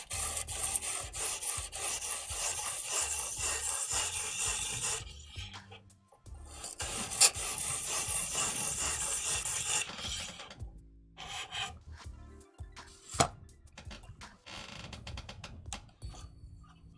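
A knife blade is drawn steadily across sharpening stones of rising grit, giving long raspy rubbing strokes in bursts with brief pauses, close and fairly quiet, the scraping growing smoother in the later passes.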